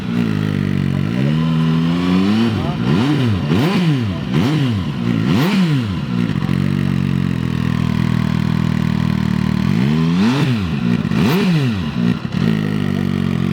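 A Turismo Veloce 800cc three-cylinder motorcycle fitted with a special exhaust, displayed at a motorcycle show, idles loudly up close and is blipped several times in quick throttle revs, then settles back to idle before two more rises near the end.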